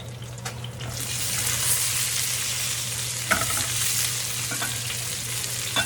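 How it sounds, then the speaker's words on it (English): Steady, loud sizzling of green beans frying in a hot pan, with a few clinks and stirring scrapes over the crackle. "Green beans are just going to sizzle in there for a minute."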